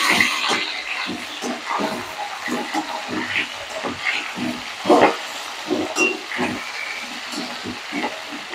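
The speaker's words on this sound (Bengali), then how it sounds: "এবার আমি পেঁপেটা দেবো, এগুলো ভাজা হয়ে এসছে একটু, পেঁপেটা দিয়ে দেবো, বিনসটা দিয়ে দেবো" Papaya and beans frying in a pan for Bengali neem shukto make a close, uneven sizzle and crackle with stirring scrapes and bursts of sputter.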